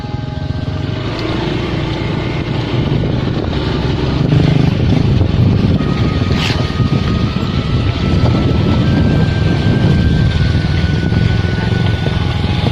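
A rented motorbike travels a narrow single-lane road along a ravine, its engine droning steadily and loudly beneath a constant rush of wind.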